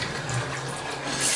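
A bathroom shower running hot at strong pressure, giving a steady, loud, close hiss of spraying water that barely changes, with no voices over it.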